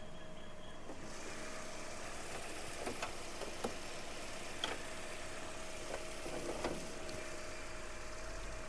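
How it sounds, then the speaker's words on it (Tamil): A 2014 Toyota Corolla Altis petrol engine idles steadily in its engine bay, a mild, even hum with a few faint clicks and knocks, fairly quiet and continuous with no talking. "இப்போ வண்டியோட இன்ஜின் நான் உங்களுக்காக ஸ்டார்ட் பண்ணிட்டேன்."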